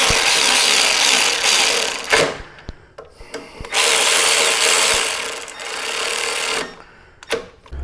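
A power tool whirs loudly and close in several bursts, driving in the brake caliper bolts on a Harley-Davidson Touring motorcycle, with short pauses and small clicks between runs.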